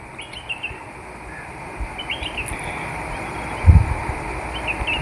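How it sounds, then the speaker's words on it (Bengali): Birds call outdoors in Kerala, with intermittent high chirps and tweets over a steady hiss of background ambience, fairly distant, plus one brief low thump. "পাখির ডাক শুনছি"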